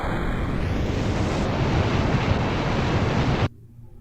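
Rocket engine roaring in Kerbal Space Program, a steady, loud broadband rush of thrust lasting several seconds before cutting off abruptly to near quiet.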